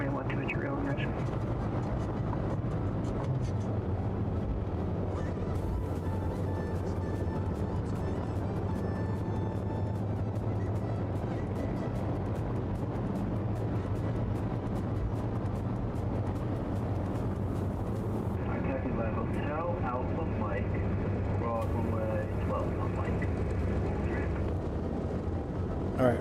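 A small general-aviation airplane taxiing and turning on the ground, its engine giving a steady, continuous drone with a slight shift in pitch partway through, heard from inside with intermittent talk over it.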